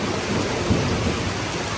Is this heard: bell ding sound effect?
no